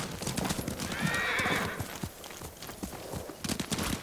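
Hooves clop along at a walking pace while a horse lets out a drawn-out whinny, then the footfalls continue, in the video game Ghost of Tsushima.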